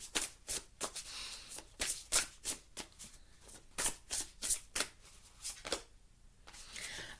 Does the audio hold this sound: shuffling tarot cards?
yes